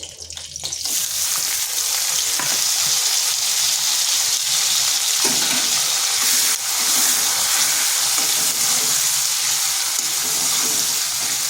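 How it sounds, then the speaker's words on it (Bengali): A large onion frying in hot oil in a pan, with a steady, loud, continuous sizzle and crackle throughout, a few brief stirring scrapes, and no talking. "পেঁয়াজটাকে একটু ভেজে নেব"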